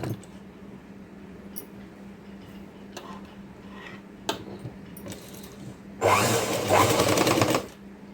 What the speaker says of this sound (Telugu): ఇప్పుడు కుట్టు అయితే చేద్దాం